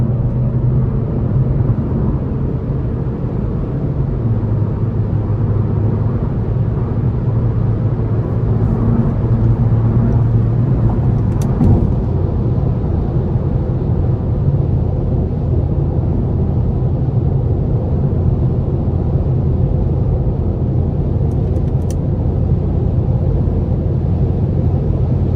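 A 2020 Chevrolet Sonic Premier with a 1.4L engine and front-wheel drive merges onto an interstate, its steady engine drone and road rumble running loud and continuous from start to finish with no talk.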